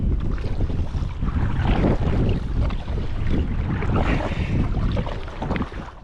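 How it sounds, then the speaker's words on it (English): Strong wind at sea around a solo fishing kayak, a loud buffeting roar with gusting microphone rumble and water sloshing, steady throughout with no voices. "Oh, it's very windy all of a sudden."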